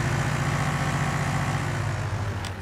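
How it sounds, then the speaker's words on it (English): Tractor engine in Farming Simulator 19 drones loudly and steadily, a continuous low mechanical rumble with no talk over it. "So this audio, tractor audio, seems quite loud to me"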